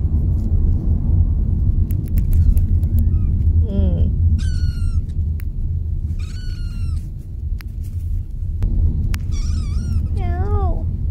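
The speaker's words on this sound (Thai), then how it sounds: "นานๆจะได้ยินเสียงเอ็ดดี้เหมียวเหมียวเยอะๆ" A cat meows repeatedly, several drawn-out wavering cries spaced apart, over a constant low rumbling background with a few faint clicks.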